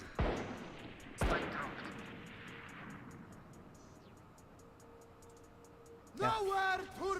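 Judge shotgun fire in the video game Valorant sounds as two heavy, booming blasts about a second apart, followed by a fading rumble, with the speaker's voice rising over it near the end.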